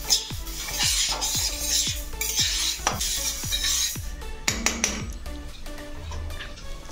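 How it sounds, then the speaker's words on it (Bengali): Moong dal dry-roasting in a hot pan while a metal spoon stirs it, with rhythmic scraping clinks against the pan and a dry rustling sizzle underneath, close and continuous. "মুগ ডালটা 2 থেকে 3 মিনিট ভেজে নেব।"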